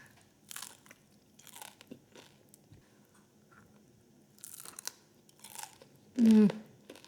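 Several crisp, crunchy bites of hot crispy rice come close to the mic, spaced a second or so apart, with a louder burst near the end.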